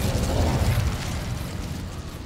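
The Incendio fire spell being cast in Hogwarts Legacy, heard as a loud, roaring burst of flame that whooshes out at once and then fades into a rumbling crackle.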